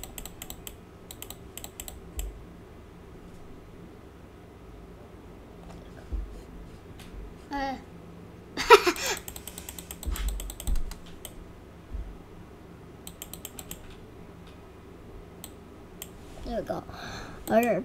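Computer keyboard typing and mouse clicking in bursts of rapid keystrokes separated by pauses, fairly close, with a person talking intermittently over the clatter.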